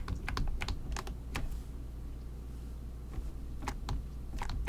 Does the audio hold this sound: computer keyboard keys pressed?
yes